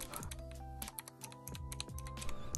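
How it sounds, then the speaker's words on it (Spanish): Shortcut buttons on a VEIKK Voila L drawing tablet click sharply, several quick presses in a row with a crisp mechanical-keyboard-like tap, close and alone. "Aquí hay 4 botones de atajo. Se siente como teclado mecánico."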